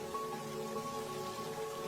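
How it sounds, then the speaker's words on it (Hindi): Heavy forest rain from a Hindi cartoon pours as a dense, even wash of patter, with faint sustained tones lying underneath. "जंगल में बहुत तेज बारिश हो रही थी।"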